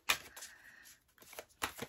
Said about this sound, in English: Now we should do the big shuffle.